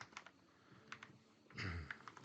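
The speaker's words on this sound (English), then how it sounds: "we're going to hit T on our keyboard for our type tool" Quiet clicking of keys on a computer keyboard, a few scattered taps and a slightly heavier press, faint and close with soft room noise and no speech.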